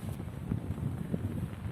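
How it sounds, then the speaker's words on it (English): Strong wind gusts across Yumthang Valley near the bank of the Lachen Chu river, buffeting the microphone with a steady, rough roar that rises and falls in short surges, with no voices. "It's very windy, so you can see it's very windy."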